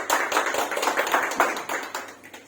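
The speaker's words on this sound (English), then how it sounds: "I would like to urge you all to have a big round of applause for both the speakers." An audience applauds the speakers at a meeting, with a steady wash of many hands clapping together that fades slightly toward the end.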